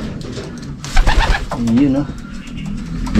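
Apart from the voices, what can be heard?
racing pigeons cooing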